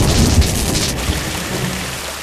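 Cartoon rain pours in a dense, loud hiss, with a deep rumble of thunder rolling underneath and no talking.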